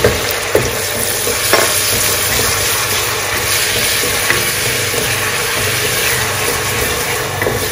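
Finely chopped medium onion sautés in a pan for a Punjabi kadhi pakora, a steady close sizzle with occasional stirring clicks and scrapes throughout.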